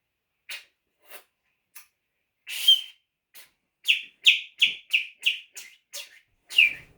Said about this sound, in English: That's my friend whistling.